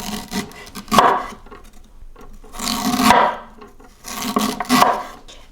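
Food is hand-grated for a sauce for a Hawaiian-style rib dish, heard as three loud, close rasping scrapes in a slow back-and-forth rhythm with short pauses, with no talking.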